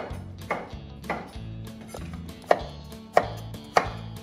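Knife chopping pears for a fennel-scented pear crumble, a steady series of sharp cuts against a board, with several louder, crisper strikes toward the end over faint background music.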